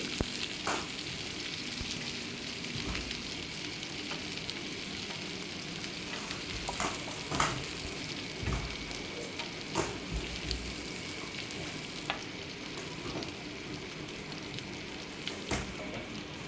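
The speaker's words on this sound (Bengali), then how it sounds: "পেঁয়াজ দিয়ে হালকাভাবে নাড়াচাড়া করে নিচ্ছি" Onions and chillies frying in a pan for a posto dish, a moderate steady sizzle with scattered sharp ticks and scrapes as they are stirred now and then, with no talk.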